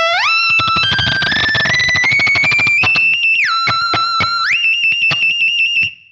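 Very high electric guitar notes run through a Fractal Axe-Fx whammy pitch effect, sliding and bending upward with harsh, buzzy digital aliasing overtones, loud and close, then cutting off abruptly with no speech.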